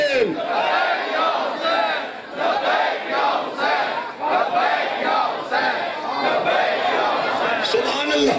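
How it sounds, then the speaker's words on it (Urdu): Large mourning congregation at a Muharram majlis in an imambargah in Lahore loudly chanting Labbaik ya Hussain, a dense, continuous roar of many voices with swelling shouted phrases throughout. "بلند آواز سے لبیک یا حسین"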